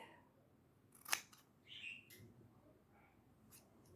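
Scissors trim a homemade Christmas ornament: one sharp close snip, then a softer squeaky cut and a faint final snip over a quiet room.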